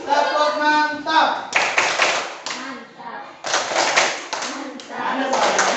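Classroom children clapping the 'tepuk mantap' rhythm in bursts of patterned claps between bouts of speech, close and loud, with a teacher's voice and children's voices around them.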